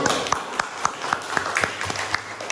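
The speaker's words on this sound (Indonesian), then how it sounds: "Ya, tepuk tangan dulu." Classroom students applaud in a short, loose burst of claps, close by and fairly scattered rather than thunderous.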